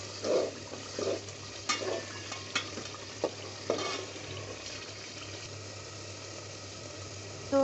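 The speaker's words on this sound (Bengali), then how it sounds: "মশলাটা আবারও একটু নেড়ে নিচ্ছি।" Beef rezala spices, including chilli powder and salt, fry in a pan under a steady sizzle while a utensil stirs them in several distinct scraping strokes, close up and without talk.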